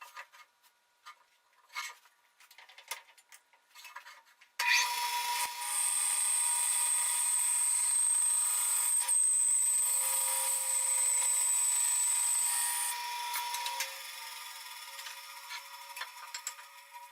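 A bandsaw rips a plain sawn wood board, the blade cut starting abruptly and holding a loud steady whine with a high ringing tone for about eight seconds before easing, preceded and followed by quieter handling clatter.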